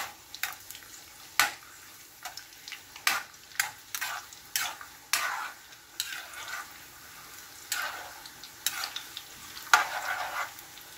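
Peanuts frying in a pan until brown, with sharp clinks and scrapes of stirring recurring every second or so over a soft, steady sizzle, close up and without voices.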